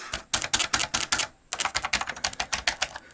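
Fingers type on the keyboard of an Oric Atmos home computer, a close, rapid run of sharp plastic key clicks in uneven bursts with a brief pause midway, no voices.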